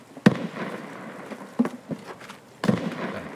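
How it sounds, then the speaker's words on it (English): Gunfire in the video game Escape From Tarkov: sharp, loud reports at irregular intervals, three prominent shots with smaller pops between, each cracking out against a quiet background. "paying attention to all the gunfire in the map is just really important"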